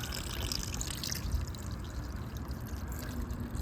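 Old coolant drains from a Gen-1 KLR650 motorcycle, a steady, continuous pouring trickle of liquid heard close and fairly quiet, with no talking.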